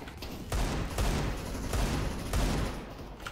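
Gunfire in the video game CS:GO: heavy bursts of rapid shots rattle out in separate volleys, with short gaps between them, loud and close.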